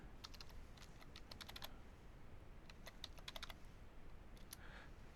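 Typing on a computer keyboard, logging in to an Ubuntu system running under WSL on Windows: quiet bursts of quick key clicks in two clusters with short pauses, alone and very faint.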